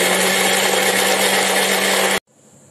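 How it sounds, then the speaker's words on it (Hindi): A mixer grinder whirs loudly and steadily for about two seconds, grinding ingredients for sabudana pakora, then cuts off abruptly, leaving a quiet hum. "मिक्सी में पीसते हैं"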